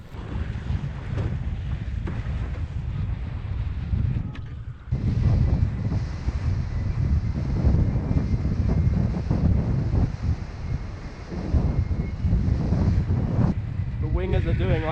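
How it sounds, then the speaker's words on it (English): Strong sea wind buffets the microphone while wing foiling, a loud constant roaring rush mixed with water noise, with talk heard in places. "it's getting a bit repetitive and it is windy"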